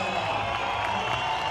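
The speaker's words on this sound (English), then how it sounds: "Now the crowd is getting hyped." A crowd at an outdoor skateboarding park contest cheers and claps in a steady, dense roar, loud and continuous over the short stretch.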